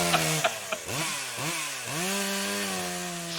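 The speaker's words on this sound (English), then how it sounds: "We have a chainsaw sound effect in the DnDTime repository" A chainsaw sound effect plays, starting with a few sputtering pulls and then revving up repeatedly into a loud, buzzing whine that rises and falls before holding a steady roar.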